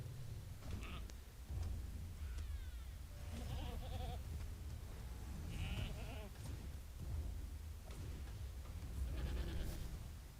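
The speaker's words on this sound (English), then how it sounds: "Maybe I'll run to some goats." Several goats bleat in a video game, with wavering calls arriving every second or two over a steady low rumble of ambient game sound. A faint voice can be heard in places.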